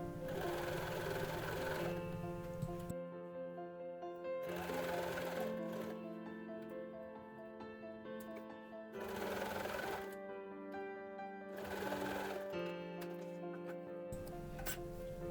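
A sewing machine stitches blanket fabric into a kid's jacket, whirring in three long, steady bursts with brief pauses between them, close and loud, with no speech.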